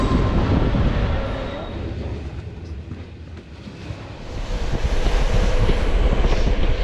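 Steady low rumble of an overnight sleeper train in motion with wind-like noise, continuous and fairly loud throughout, swelling again toward the end.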